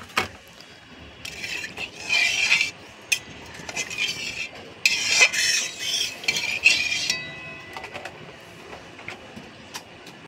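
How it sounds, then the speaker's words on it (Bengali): Water poured into a pan for a thin fish curry and stirred, giving bursts of bright scraping and clinking from a utensil against the pot, close and intermittent, with quieter gaps between strokes. "আমি এখন জল দিয়ে দিচ্ছি, একটু পাতলা করে মাছের ঝোল বানাবো।"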